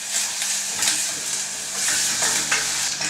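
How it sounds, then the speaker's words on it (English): Onion fries in hot fat for a pork brain dish in a home kitchen, giving a steady, close, bright sizzle with light stirring scrapes rising and falling throughout. "We put onion into the fat."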